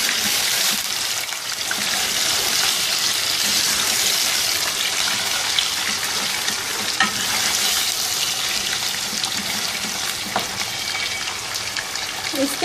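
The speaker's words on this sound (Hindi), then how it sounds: "ये चिकन हल्का सा फ्राई हो गया।" Chicken sizzles and fries in a pan with ginger and garlic, a dense steady crackle close by with occasional stirring clatters throughout.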